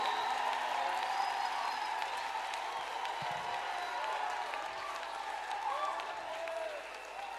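A church congregation at a Wednesday service applauds: a broad wash of clapping and crowd noise with occasional whoops, and faint voices and sustained tones running underneath, easing off slightly toward the end.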